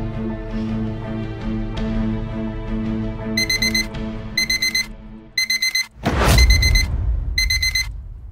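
An alarm clock ringing loudly in repeated bursts of shrill electronic beeping, with a sharp crash partway through over a humming background.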